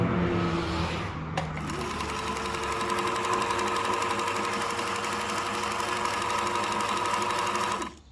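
A sewing machine runs steadily at a slow, even pace for about eight seconds, a continuous close mechanical whir with a rapid needle rhythm and a faint knock, no voices over it, cutting off abruptly at the end.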